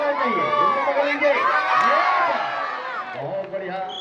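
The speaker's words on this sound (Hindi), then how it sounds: "खेल के लिए जोरदार ताली चाहिए" Crowd at an outdoor kabaddi match at a youth festival cheering and shouting continuously, a loud, dense roar of many voices with children's yells and whoops, with no distinct clapping audible.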